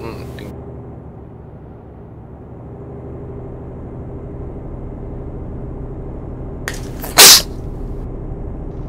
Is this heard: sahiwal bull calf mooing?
no